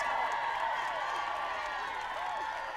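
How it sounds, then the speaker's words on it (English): Dense, steady roar of a concert crowd cheering and screaming for a 16-year-old star taking the stage, loud and continuous throughout with no pauses. "the 16-year-old star is overwhelmed by cheering fans"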